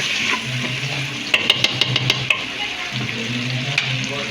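String beans and lechon sizzle steadily in a hot pan as a utensil scrapes and taps the metal in a quick run of clinks, with no talking.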